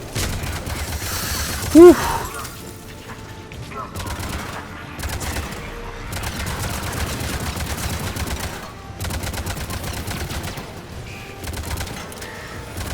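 Rapid gunfire from guns in the video game Mass Effect 3, with bursts of fire running through most of the stretch alongside other combat noise, and a brief spoken exclamation near the start.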